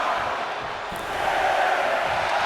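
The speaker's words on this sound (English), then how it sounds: "Uncle Howdy getting the crowd riled up right now." Arena crowd noise from the WWE 2K25 wrestling game, a steady broad roar of cheering that swells slightly in the second half, with no voices standing out.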